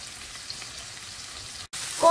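Ground pork frying slowly in a pan with onion and bell pepper rings, a steady close sizzle throughout with a brief break near the end.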